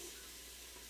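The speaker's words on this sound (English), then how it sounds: "Did you hear that searing in there?" Onions and green peppers searing in a hot pan for a chicken chili, a steady faint hiss and sizzle with no voice.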